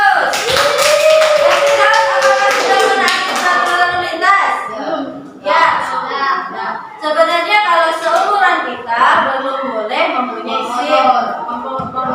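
A classroom of children claps together in a burst of applause, with their voices chattering and talking over the clapping.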